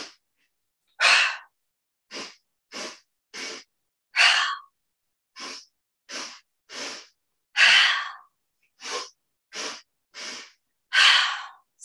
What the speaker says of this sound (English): So I'll demonstrate a couple of times here. We'll take a normal breath first.